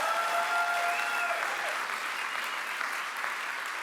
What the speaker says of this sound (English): Let's give another round of applause for Peter Valera and the Not So Late Night B